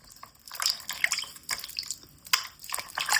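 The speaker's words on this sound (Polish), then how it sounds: "leje się przez właśnie dziurkę od klucza wosk do miski z wodą" Hot wax is poured through a keyhole into a bowl of water for a fortune-telling ritual, giving close irregular drips, splashes and sizzling spatters that come in uneven bursts.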